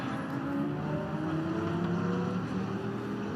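Race cars lapping the Lausitzring during a DTM qualifying session in 2024, a steady loud engine drone with shifting pitched whine as several cars pass, continuous and without speech.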